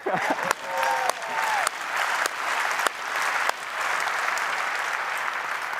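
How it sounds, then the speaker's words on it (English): Audience clapping at a developer-focused tech keynote, a moderately loud, steady wash of applause from a crowd with a few sharp, distinct claps standing out near the start; no talking over it. "go ahead, clap for that"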